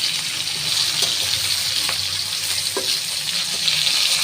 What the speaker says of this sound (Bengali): তো মাছটা ভেজে নেব